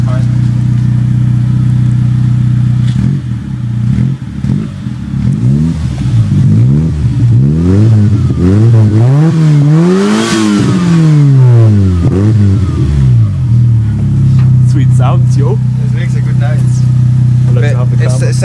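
A rally car engine with a cone fitted to its exhaust revs up and down repeatedly at close range, climbing to a loud peak mid-clip before settling back to a steady idle.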